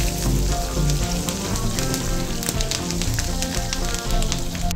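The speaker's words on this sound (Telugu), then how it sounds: "ఆయిల్ వేడైన తర్వాత తాలింపు గింజలు, ఎండుమిర్చి, కరివేపాకు వేసుకోవాలి." Mustard seeds, dried red chillies and curry leaves sizzle steadily in hot oil for a Telugu bitter gourd curd fry, a loud, dense crackling hiss with scattered pops and no talk.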